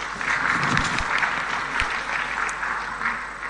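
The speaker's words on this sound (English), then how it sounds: "Please, another round of applause." A crowd at a sustainability summit in Enugu State gives a sustained round of applause for the Deputy Governor, a dense, even wash of clapping heard clearly throughout with little talk.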